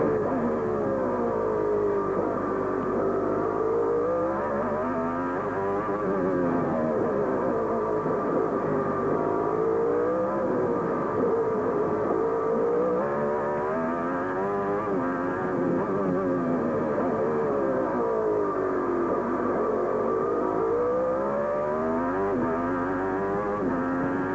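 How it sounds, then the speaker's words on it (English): A Honda-powered IndyCar engine during 1994 CART final qualifying at Surfers Paradise gives a flat, buzzy note that rises and falls repeatedly as the car revs through corners, sustained and fairly distant throughout. "all you have to do is listen to the engine to know it's very different"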